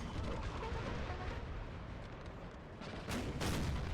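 Faint, distant musket volleys and artillery rumble from a Napoleonic Total War battle between Prussian and French armies, a dense continuous crackle with a few sharper bursts near the end.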